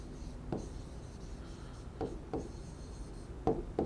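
Chalk or marker moves across a board during a physics lecture in a classroom, producing faint scratchy strokes with several sharper taps, quiet and close, with no speech.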